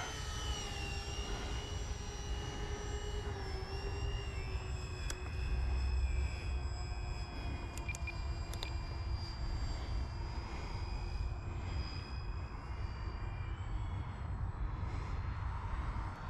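RC model Hobbyking Avios Grumman HU-16 Albatross, a 1620 mm twin-engine flying boat, flying a landing approach in the rain at about quarter throttle, its faint steady whine of electric motors holding pitch and shifting slightly as it passes at a distance.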